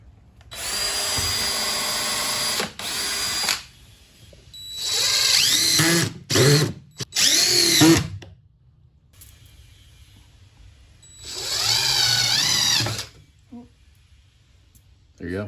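A power drill drives screws through subfloor into wood inside a van, several whirring bursts of varying length that rise and stop, with quiet pauses between and the motor winding up and down, close and loud.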